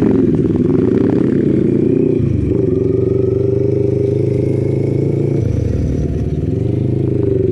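A Kawasaki NK400 motorcycle engine rumbles loudly nearby, holding a steady idle with short rises in revs between the lower stretches.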